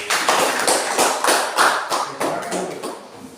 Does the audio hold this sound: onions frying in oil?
no